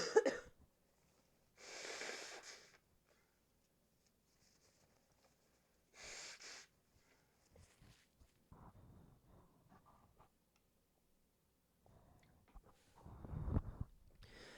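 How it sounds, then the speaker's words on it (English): A person blows their nose in several short, forceful bursts with quiet pauses between, close and fairly loud, with some snorting breaths near the end. "I just need to blow my nose."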